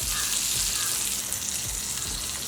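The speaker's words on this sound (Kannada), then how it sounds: "ಲೋ ಫ್ಲೇಮಲ್ಲೇ ಫ್ರೈ ಮಾಡ್ಕೊಳ್ಳೋಣ." Eggplant (brinjal) masala frying in a pan on a low flame gives a dense, even sizzle that holds steady from start to finish, close and with no talking.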